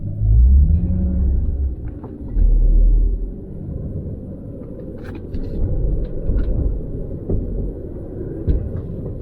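A 1998 Lexus SC400 engine runs steadily as a low, continuous rumble, close by, with a couple of heavier surges near the start and faint clicks and knocks over the top.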